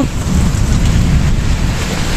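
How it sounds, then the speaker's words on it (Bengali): Heavy rain pours steadily during a storm, a dense continuous roar with strong low rumble, loud and close with no talking. "আসলে প্রচুর বৃষ্টি আমরা দেখতে পাচ্ছি চারিদিকে।"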